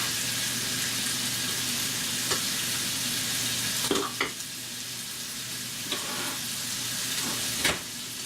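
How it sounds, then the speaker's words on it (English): Chicken frying in a pan in a trailer kitchen gives a steady, close sizzle and hiss throughout, with a few sharp clinks of a utensil against the pan. "Got the chicken frying up"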